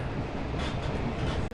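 Inside a passenger train carriage while riding, a continuous rumbling roll with steady rattling and faint clatter throughout, then a short dip at the very end.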